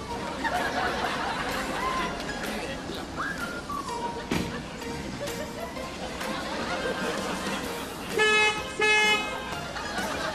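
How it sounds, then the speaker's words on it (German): Car horn toots sounding in a moving car during a summer hidden-camera prank, with a short burst of honks late on, mixed with chatter and road noise throughout. "Wer hupt mir jetzt so?"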